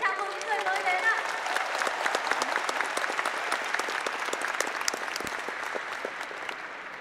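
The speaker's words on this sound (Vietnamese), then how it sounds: "And the rest of us should applaud and welcome them." Sustained applause from a rally crowd welcoming newcomers, many hands clapping steadily and gradually fading, with a voice speaking over it at the start.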